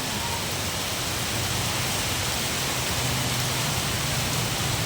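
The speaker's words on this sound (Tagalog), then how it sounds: "Biglang buhos ng lakas ng ulan guys" Sudden heavy rain pours down on a Manila street. A dense, steady, loud hiss continues without pause for the whole stretch.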